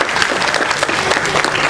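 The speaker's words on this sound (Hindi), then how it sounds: "एक बार जोरदार तालियों से सारे बच्चों का हार्दिक अभिनंदन करें" An audience at an employees' welfare association function gives the children a loud round of applause, close, dense and continuous clapping from a large crowd with no speech.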